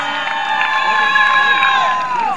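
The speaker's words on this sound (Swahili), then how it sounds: "Piga makofi kwa Dr. Samia Suluhu Hassan" A large crowd at an outdoor political rally in Mbeya cheers and shouts together in a loud sustained roar that fades slightly at the end.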